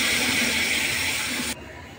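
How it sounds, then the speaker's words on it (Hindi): Water is poured into semolina roasting in a hot pan for suji halwa, giving a loud, steady steaming hiss that cuts off abruptly. "अब हम इसमें पानी ऐड कर देते हैं।"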